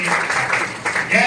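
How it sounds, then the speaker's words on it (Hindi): Audience applause at a book-launch and honour ceremony, a short burst of dense clapping at close range, loud and steady, with a brief dip in the middle. "तालियां बजाएं"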